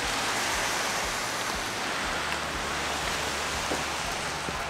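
Steady rain falling in Taupo, New Zealand, a dense even hiss of drops with low rumbling wind underneath, constant and fairly loud with no talking.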